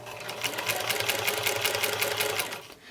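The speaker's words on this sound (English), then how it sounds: "And we're going to sew. Put a hand on either side and go slow." A sewing machine fitted with a walking foot runs steadily while quilting, a fast even stitching rattle that stays close and loud for nearly three seconds before slowing to a stop.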